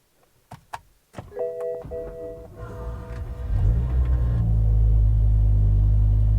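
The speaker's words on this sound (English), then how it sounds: "So good opportunity for a true cold start." A BMW that has sat unused for two weeks is cold started: a few clicks and chimes, then the engine cranks and catches, settling into a loud, steady rumbling idle close by.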